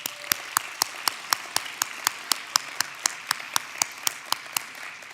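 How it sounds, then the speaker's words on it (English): An audience at the Do Good Challenge finals claps in applause, with one sharp, close clap repeating at an even, metronomic pace over a softer, steady bed of crowd clapping. "Let's have a round of applause for Morgan Stanley Private Wealth Management."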